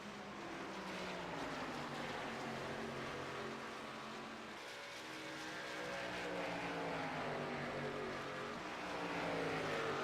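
Race cars circle the track in a continuous engine drone, heard from a distance, with pitch rising and falling as the cars pass.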